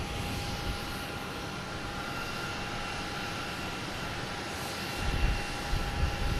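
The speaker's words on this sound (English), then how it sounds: "Next to arrive is Azores Airlines, the Breathe livery from Ponta Delgada." An Azores Airlines plane in Breathe livery arriving at Boston Logan from Ponta Delgada gives a steady, even jet-engine roar with a thin tonal whine, swelling slightly louder near the end.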